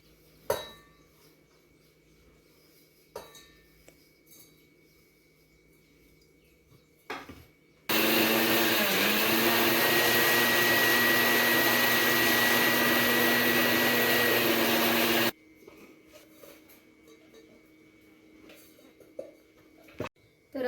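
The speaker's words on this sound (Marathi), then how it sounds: "आता हे सगळं मिक्सरमध्ये दळून घ्यायचं आहे." An electric mixer grinder grinds roasted dry fruits, coconut, ajwain and fried edible gum, a loud steady whirring drone running for several seconds between quiet stretches with faint kitchen clinks.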